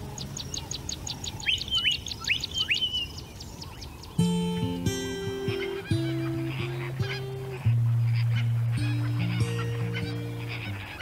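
Common flamingos call from an estuary in a brief run of honking, chirping cries near the start, after which a sustained layered tonal bed takes over and largely buries the birds.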